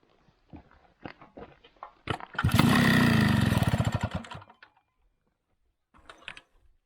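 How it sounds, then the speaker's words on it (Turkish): A Mobylette moped's starter is pressed and the engine cranks in a rough, rhythmic churn for about two seconds without catching, framed by a few scattered knocks and handling noises. "Marşa basıp bakayım."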